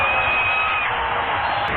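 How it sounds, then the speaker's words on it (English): A packed basketball arena roars during a Lakers timeout against the Charlotte Hornets in 2000, a dense, loud, sustained crowd cheer with a whistle-like tone near the start. "listen to this crowd on the Lakers Basketball Network"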